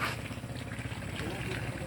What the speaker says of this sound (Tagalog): Nakaroon meron kami yung bomba dito.